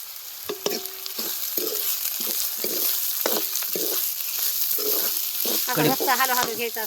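Curry leaves hit hot oil in a pan for a sprouted moth bean curry, giving a steady frying sizzle broken by repeated short scraping stirs and clinks, close and moderately loud, with no talking.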